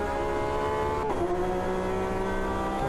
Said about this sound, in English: Wow, my gear changes are all over the place right now.